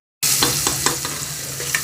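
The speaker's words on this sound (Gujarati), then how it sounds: "ડુંગળી નાખીશું" Onion fries in a hot pan with a loud, constant sizzle that starts abruptly, with light scraping taps as it is stirred.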